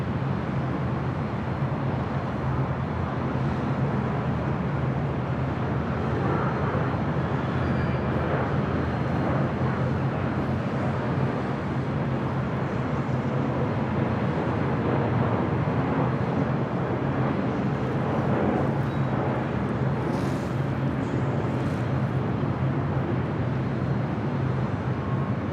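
An American Airlines Boeing 737-800 jet at LAX during east-flow operations produces a continuous low engine roar, steady and moderately distant for the whole stretch, with no speech.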